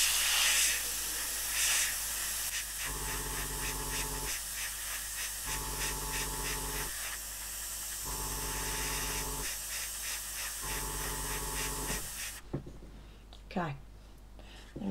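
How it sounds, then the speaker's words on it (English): Mr. Paint sprayed from an airbrush onto a 1/48 Airfix Westland Sea King model kit part, a steady close hiss in several bursts with short pauses, cutting off near the end. "I'm literally just going to spray this square"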